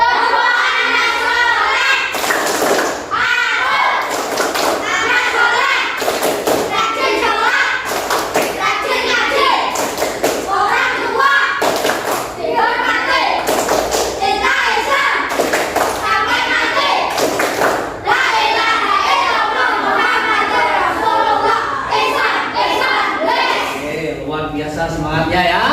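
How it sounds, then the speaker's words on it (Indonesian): Children in a classroom perform the 'tepuk anak soleh' rhythmic clapping chant, sharp claps landing in a regular pattern between their sung and spoken lines throughout, close and lively. "Sekarang kita tepuk anak soleh dulu yuk."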